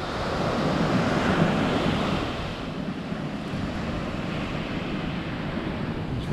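Ocean surf washing in steadily at Maluk Beach, a broad continuous roar of breaking waves with some wind buffeting the microphone, louder for the first couple of seconds then settling to a constant wash.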